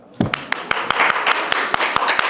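Scattered claps from an audience at a live conversation event, a handful of sharp separate hand claps over a soft murmur rather than full sustained applause.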